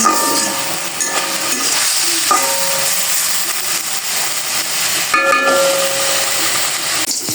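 Vegetables sizzle and hiss steadily in a hot pan on a gas stove, a loud continuous crackle with occasional faint tones in the background.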